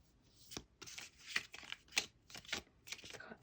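Tarot cards being shuffled at a tabletop reading produce quiet, rapid riffles and soft slaps, arriving in uneven bursts close by with no talking.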